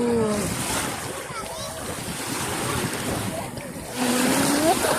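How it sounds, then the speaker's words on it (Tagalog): Strong surf rolls in at a beach resort at low tide, a broad roaring wash of breaking waves with wind buffeting the microphone and people talking and calling over it. "Lumalakas yung alon niya."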